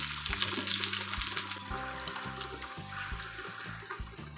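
Veg cheese bread pockets fry in hot oil over a medium flame with a steady, close, hissing sizzle, under low humming tones.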